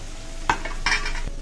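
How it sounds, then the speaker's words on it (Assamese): Papad frying in hot oil in a home kitchen: a short, fairly quiet crackle with a couple of sharp sizzling bursts and light utensil clicks, and no voices. "এইফালে পাপৰকেইখন ভাজি ল'ম, হৈ যাব।"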